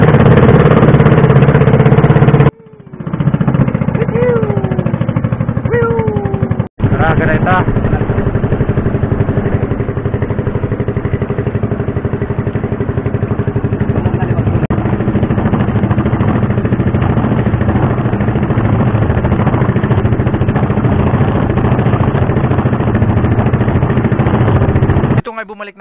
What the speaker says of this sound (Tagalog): Dito nga pinaandar ko ng makina ng bangka